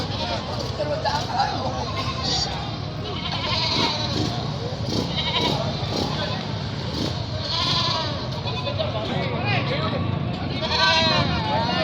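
Several goats bleat in wavering, overlapping calls amid steady background babble and noise at a livestock market, with voices murmuring nearby throughout.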